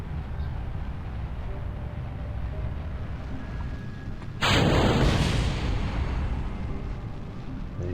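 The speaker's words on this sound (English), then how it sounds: "You've got an explosion." A rocket explosion in the space-flight video game Kerbal Space Program bursts in as a sudden loud broadband blast midway, over steady engine rumble, then slowly tails off.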